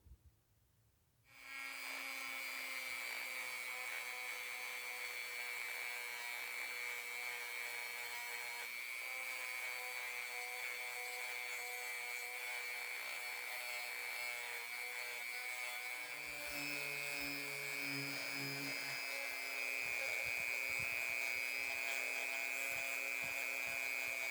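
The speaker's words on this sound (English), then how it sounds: "So I'm going to do those with the sanding drums in my Dremel." A high-pitched Dremel rotary tool with a sanding drum whines steadily and close, its tone shifting slightly as it grinds against metal pliers, with no talking.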